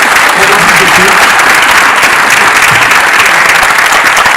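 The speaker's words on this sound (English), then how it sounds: "I think Shashi Tharoor deserves a huge hand round of applause." A large audience applauds loudly after a book discussion with Shashi Tharoor and Dr Karan Singh, a thick, sustained wall of clapping that holds at full strength without pause.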